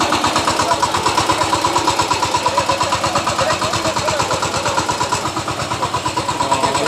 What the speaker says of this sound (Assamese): ট্ৰেক্টৰখন নিজে নিজে ঘূৰি আছে চাওক